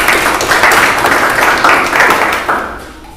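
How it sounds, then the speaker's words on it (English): Audience applause fills a conference talk at Agile on the Beach 2016, a steady dense clapping from the room that holds for a few seconds and then thins out and fades. "Give me a clap"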